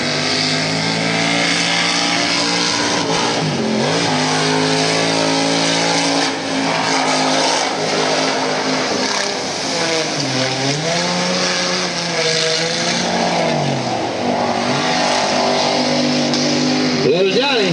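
A racing truck engine revs loudly and repeatedly, its pitch sweeping up and down with tire squeal, heard close over continuous excited commentary.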